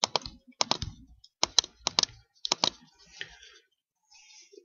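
A year is typed on a computer keyboard at the age-check page for Dead Island Riptide: several quick, close bursts of crisp key clicks separated by short pauses, with no talking.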